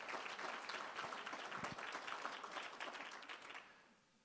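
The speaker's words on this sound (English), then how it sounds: "So I think everyone here deserves a round of applause." A crowd at an awards event applauds steadily for several seconds, dense clapping that tapers off near the end.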